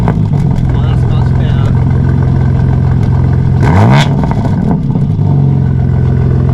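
A 2023 BMW M3 xDrive with a non-stock aftermarket exhaust revs loudly and close by, its engine rising into a sharp sweep and falling back under a steady drone, with someone talking over it.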